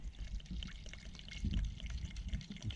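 Gin poured into a jug, a steady low liquid gush with trickling splashes running the whole time at moderate, close level, no voices.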